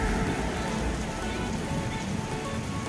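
Sudden rain pours down in a village during a holiday visit, a steady, dense hiss of drops hitting surfaces close by that runs unbroken throughout, with no voices.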